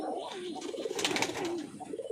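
Jalali pigeons coo in soft, low, rolling calls, close by, with a faint rustle in the background.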